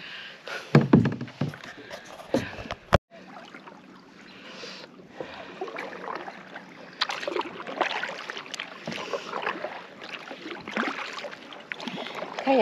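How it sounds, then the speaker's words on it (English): Kayak paddling on open water in Bacalar, Yucatan: a few sharp knocks and taps early on, then steady soft splashing and water rustle from paddle strokes, fairly close with no one talking. "Kayaking."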